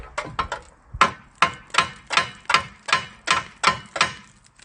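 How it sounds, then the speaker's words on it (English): A hammer strikes metal car parts about ten times in a steady rhythm, each blow sharp and close, with brief ringing between hits, while removing a Pontiac Trans Am radiator support. "Maybe we should use a hammer."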